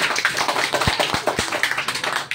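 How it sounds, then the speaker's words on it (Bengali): Audience applause for girls' prize winners at a school prize-giving, a rhythmic patter of many hands clapping with a few heavier knocks, moderately loud and without speech. "এদের জোরদার হাততালি"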